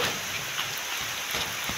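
Heavy rain falls without letup near a hanging bridge, a thick even hiss of drops drumming on surfaces close by.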